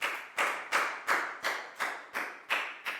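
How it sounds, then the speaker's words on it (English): Class applause in a Year 4 English lesson: about eight slow, evenly spaced claps of equal strength, each with a short room ring. No voices are heard. "High five and a big round of applause for Dan, please, guys."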